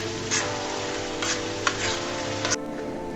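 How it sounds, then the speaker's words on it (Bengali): Onion stalks fry in a pan while being stirred, a continuous close sizzle punctuated by several short spatula strokes against the pan. "সুন্দর করে আমি আবারও নেড়ে চেড়ে দিচ্ছি।"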